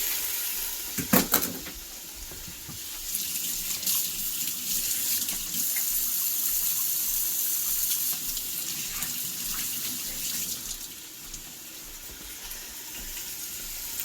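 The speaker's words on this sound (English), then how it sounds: "I'm gonna wash my hands." A kitchen tap runs steadily into a sink while hands are washed, with a couple of clunks near the start and the flow splashing close by throughout.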